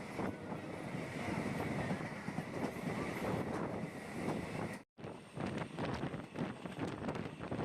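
The Guruvayur Express rumbles along the line between Rajapalayam and Sankarankovil, with a steady roar of wheels and rushing wind, heard from inside near an open window and cut by a brief gap of silence.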